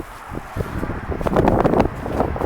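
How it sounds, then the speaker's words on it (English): Wind gusting around an RV camper parked outdoors, a broad rushing roar that builds and stays strong through the second half, with buffeting against the microphone and no talking. "It's a little windy out here today."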